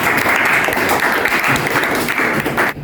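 A classroom of students applauds a classmate after a matrix math answer, close, loud and steady clapping lasting nearly three seconds before cutting off.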